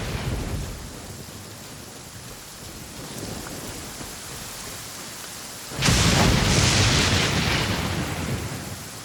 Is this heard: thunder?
yes